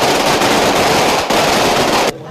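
A 300-metre string of 100,000 firecrackers bursts at noon on New Year's Day in Dagupan, a loud, dense, continuous crackle of rapid-fire explosions that cuts off abruptly near the end.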